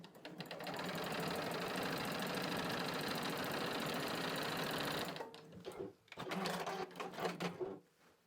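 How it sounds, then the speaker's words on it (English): Sewing machine stitching cotton fabric hearts together with a quarter-inch seam, a loud, continuous rapid whir up close for around four seconds, then stopping to shorter bursts and fabric rustling. "And then sew using 1/4 inch seam allowance."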